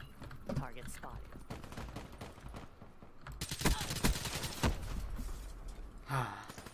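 Fast-firing gun, an SMG or assault rifle, in the video game Black Ops 3, with rapid bursts of shots through the middle of the stretch amid busy game noise and a brief voice-like sound.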